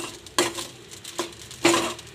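Dried chili and coconut roasting in a pan for a chutney, with three distinct scraping stirs of a spoon against the pan over a quiet dry sizzle, nearby and fairly soft.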